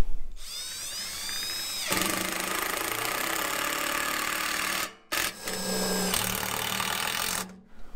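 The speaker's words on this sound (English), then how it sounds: "and then you're just gonna drill it in." A power drill drives screws into the corners of a raised garden bed frame, with whining motor bursts that rise and change pitch, separated by brief pauses, close and loud, with no speech.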